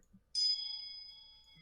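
A single bright bell ding rings out clearly and alone, then decays in a long, steady shimmering tone, played as a spoiler-warning alarm sound effect.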